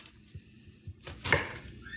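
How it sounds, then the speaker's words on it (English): A knife cuts through an old, past-its-best onion on a board in a home kitchen, giving a few soft, sparse chops with a slightly louder cut near the end, faint and unhurried. "I'm gonna cut up some onion."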